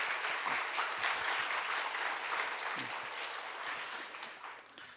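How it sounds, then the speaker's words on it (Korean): A church congregation claps together in encouragement of its elders, a steady wash of applause that holds at a moderate, slightly distant level before easing off near the end. "박수로 한번 격려합시다"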